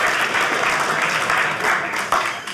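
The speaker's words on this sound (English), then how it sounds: "Clap if you agree, men." Steady applause from a live comedy audience fills the room, a dense continuous wash of clapping with one sharper clap near the end.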